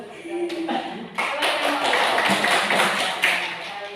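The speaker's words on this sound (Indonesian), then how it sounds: "Berikan aplaus untuk kelompok 2." A classroom audience claps for a student group, a dense patter of hands that swells after the first second and holds steady, with a voice heard briefly at the start.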